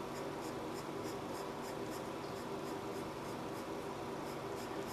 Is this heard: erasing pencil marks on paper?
yes